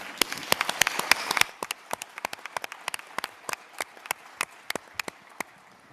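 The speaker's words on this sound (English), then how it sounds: "I think you should applaud all yourself in the room because you really deserve it." An awards ceremony audience in a room applauds, a brief dense burst of clapping that quickly drops to scattered individual claps fading away.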